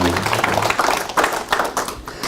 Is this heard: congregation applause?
yes